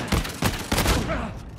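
Heavy shotgun blasts in Uncharted 4 multiplayer, three or four loud booming shots spaced irregularly, close and punchy, with lingering game noise between them.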